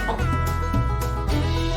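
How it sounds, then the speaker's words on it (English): A farm chicken clucks in short bursts, loud and close, with a steady low buzzing backdrop running underneath. "Chicken."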